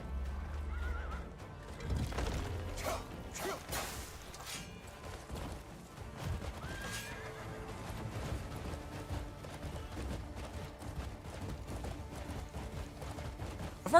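In the video game Crimson Desert, a horse whinnies and neighs amid clip-clopping hooves, clanks and thuds of in-game action, fairly close and moderately loud.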